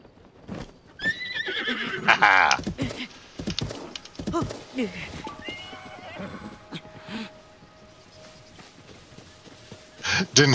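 Giant horse from the video game Zelda: Tears of the Kingdom, neighing loudly in several whinnies with galloping hoofbeats, while a person talks over it.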